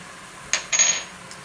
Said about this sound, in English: Keep stirring this around.